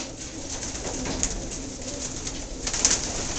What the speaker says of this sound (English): You can see some of these birds here.